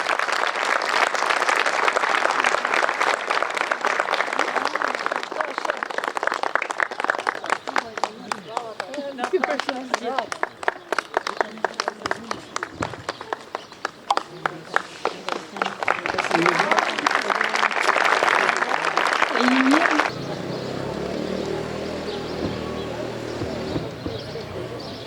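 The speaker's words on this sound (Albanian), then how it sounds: "Një duartrokitje të fortë." Loud, sustained applause from a crowd at a school's 80th anniversary ceremony in Trush, dense clapping for about twenty seconds before it gives way to quieter sound with voices.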